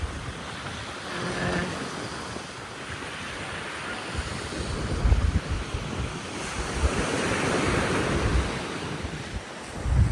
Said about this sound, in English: I say it's very breezy today. Lots of waves.